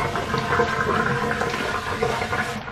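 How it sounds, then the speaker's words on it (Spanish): Plastic bags being rinsed under water at home, with a steady, loud, continuous rush of running water that stays even throughout and has no voices over it. "Las lavo antes de guardarlas."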